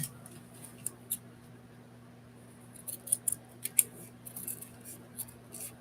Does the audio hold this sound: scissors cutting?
yes